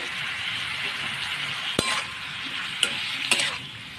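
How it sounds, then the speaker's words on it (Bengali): Chopped bottle gourd stirred with spices in a frying pan: a steady sizzle with occasional sharp clinks of the spatula against the metal, close and alone. "লাউগুলো ভালোভাবে মশলার সঙ্গে মিশিয়ে নেব"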